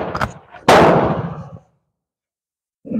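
A single sharp rifle shot from an M44 Romanian Mosin Nagant carbine cracks loudly outdoors and decays over about a second, preceded by faint handling noise and followed by silence.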